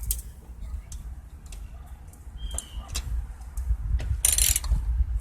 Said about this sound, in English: 10mm wrench, tighten the belt guides back up.